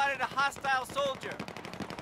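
An enemy machine gun fires in the shooter game Battlefield 4: rapid, evenly spaced bursts of gunfire follow a harmonic, voice-like tone over steady game noise.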